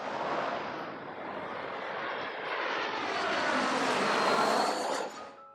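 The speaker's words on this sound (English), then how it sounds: "it was fun watching all the planes" An airplane passes overhead near Los Angeles, its engine roar swelling steadily and staying loud and broad for several seconds before cutting off near the end.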